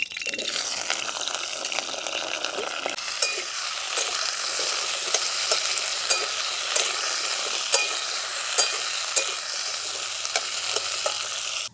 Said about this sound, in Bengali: এই পটল আর আলুটা ভালো করে তেলে ভেজে নেব